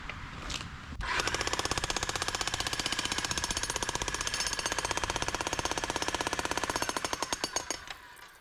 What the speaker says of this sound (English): here's what I know about this Makita AVT Breaker Hammer